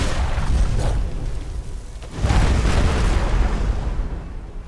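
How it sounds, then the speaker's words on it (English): Fireball spells exploding in the video game Skyrim: two long, loud rumbling blasts, the second swelling in sharply after a brief dip and rolling on with a dense roar, no voices. "In combat, she throws deadly fireballs."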